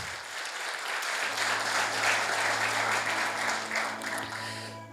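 Worshippers in a church clap for Jesus, a broad wash of many hands swelling and holding steady at moderate volume, with a low sustained musical tone entering underneath partway through.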